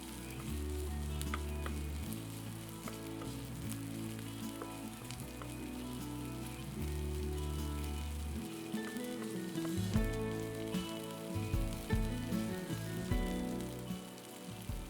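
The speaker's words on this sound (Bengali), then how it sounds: "এবার পেঁয়াজগুলোকে ভেজে নেব" Four medium-sized onions fry in oil for a chicken curry, giving a steady, close crackling sizzle with no talk.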